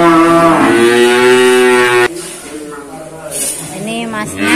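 Cattle moo loudly and close at a cattle dealer's yard where feeder cattle are being sold, one long low bellow lasting about two seconds. Voices and yard noise follow.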